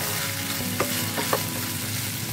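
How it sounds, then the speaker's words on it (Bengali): Carrots and beans fry in a pan with salt and turmeric, giving a close, steady sizzle with a few sharp stirring clicks and scrapes, and no voices. "এবার এই দুটোকেই ভালো করে ফ্রাই করে নেব"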